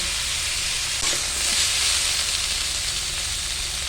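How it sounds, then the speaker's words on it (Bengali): Kohlrabi, potato and eggplant fry together in hot oil, giving a loud, continuous close-up hiss and sizzle with little variation. No one speaks. "এটা একটু ভালো করে নেড়ে চেড়ে একটু ভেজে নেব"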